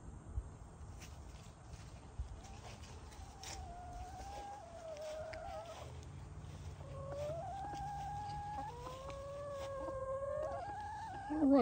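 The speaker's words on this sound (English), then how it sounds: "Now let's go over and take a look at the chickens." Chickens in a winter farmyard cluck and call in a series of rising, wavering notes that grow louder toward the end, over a steady low background hum.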